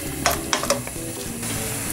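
A small piece of butter sizzles in a pan with a steady frying hiss and a few light crackles and taps from utensils, close and fairly loud, with no voices.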